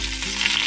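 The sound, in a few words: green chilies and curry leaves frying in hot oil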